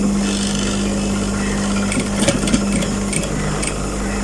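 A sewing machine stitches fabric for women's long office trousers, its motor humming steadily up close with a rapid needle chatter and a few brief clunks partway through.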